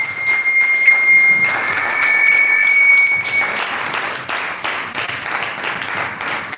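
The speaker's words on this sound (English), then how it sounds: "Let's give our round of applause. Let's give clap and do better than that." An audience gives a round of applause at a live session, steady dense clapping with a high ringing bell-like tone sounding over it early on, then the clapping continues alone and eases slightly.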